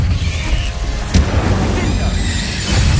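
Explosive spell blasts in Hogwarts Legacy: a deep boom and sharp burst land near the middle over a dense rumbling battle mix, loud and close, with constant low thuds.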